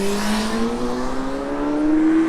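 Street traffic on a Sunday night walk in Japan, with a car passing by: a steady engine tone rising gradually in pitch as the vehicle approaches, fairly close, over a constant road hum, with no talking.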